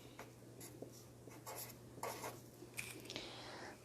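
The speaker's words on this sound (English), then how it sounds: "So let's write that down." Pencil scratching across paper in short, uneven strokes at a quiet, close distance, with a steady low hum in the background and no voices.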